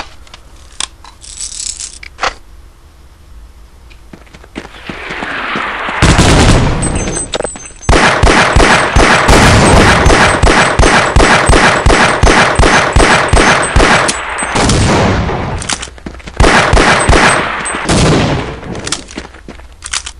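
Rapid automatic gunfire from Half-Life: Opposing Force fills the scene in loud, dense bursts of evenly spaced shots, with quieter mechanical clicks and pauses before and between the volleys.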